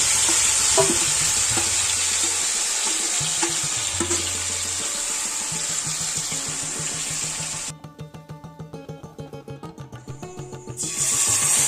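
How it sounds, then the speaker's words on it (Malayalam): Crushed ginger and garlic sizzle in hot coconut oil while being stirred in a pan for a Kerala chicken curry, a steady loud frying hiss with scraping stirs, quieting briefly near the end before resuming. "ഇഞ്ചിയും വെളുത്തുള്ളിയും ചതച്ച് വെച്ചിട്ടുണ്ടായിരുന്നു അത് ഇതിലേക്ക് ഇട്ട് കൊടുത്തിട്ട് ഒരു പതിനഞ്ച് സെക്കൻഡ് നേരം ഒന്ന് വഴറ്റിയെടുക്കുന്നുണ്ട്"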